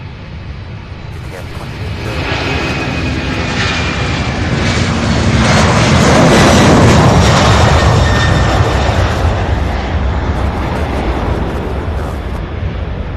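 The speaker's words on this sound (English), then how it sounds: "So the next takeoff here is UPS 2338 heading to Jacksonville, Florida. A 22-year-old Airbus A300," A 22-year-old UPS Airbus A300 jet roars down the runway on takeoff, a broad, loud engine rumble swelling to a peak and holding steady.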